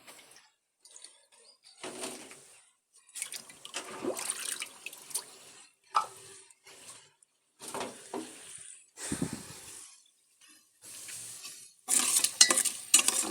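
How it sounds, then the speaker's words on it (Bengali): Malabar spinach leaves being washed by hand in water, with intermittent bursts of splashing and swishing separated by short quiet gaps, close and moderately loud. "পুঁই শাক ধুয়ে নিচ্ছি।"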